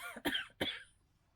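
Two quick, close coughs in succession, followed by quiet.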